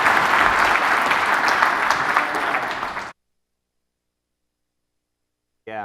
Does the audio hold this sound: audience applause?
yes